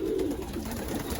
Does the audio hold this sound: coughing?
no